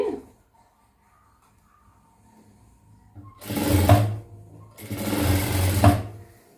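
A sewing machine stitches a chudidhar pant in a tailoring class. After a quiet start there are two loud bursts of rapid mechanical whirring and clattering, each lasting about a second, with a short pause between them.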